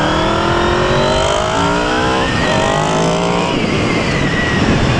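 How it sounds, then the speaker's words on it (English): A 2000 Honda VFR800 motorcycle engine revs and accelerates continuously, its exhaust note rising and falling with a throaty, gritty roar close by. "it's got a bit of a growl on the exhaust"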